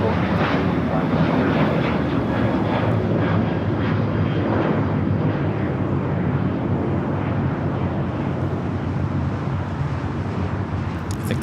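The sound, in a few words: United Boeing 737-800 jet at LAX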